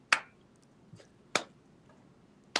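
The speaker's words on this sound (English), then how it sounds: "from behind her you hear just this slow clap" Three isolated sharp claps spaced over a second apart, a deliberate slow clap ringing out alone in a quiet room.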